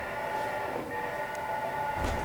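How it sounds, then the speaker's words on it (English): A stage sound effect of a train howling plays at a theater festival performance, a steady mechanical rumble with a sustained tonal drone that holds for a couple of seconds, loud and continuous, with no talk over it. "A train is howling."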